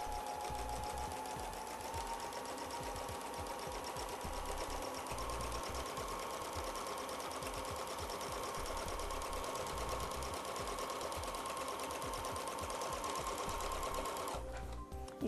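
A sewing machine runs steadily while free-motion stippling, a continuous fast mechanical whirring and rapid stitching rhythm at even volume, stopping abruptly near the end.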